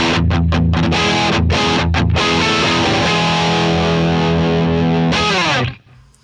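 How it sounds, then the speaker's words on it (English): Electric guitar played through the crunch amp model of a Line 6 Pod Express, based on a Friedman BE100 channel: a few sharp picked hits, then a loud sustained distorted chord that rings and cuts off near the end. "This is the crunch, which is based on the Friedman BE100"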